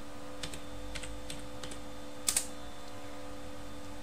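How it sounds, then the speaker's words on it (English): Someone types a name on a computer keyboard, a few quick light key clicks followed by a sharper pair of taps, faint and close in a quiet room with a soft steady hum. "so it is necessary to type the name"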